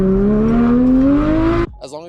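Porsche GT4 engine revving hard, its pitch climbing steadily for over a second and a half, loud and close, then cutting off sharply as a brief voice follows.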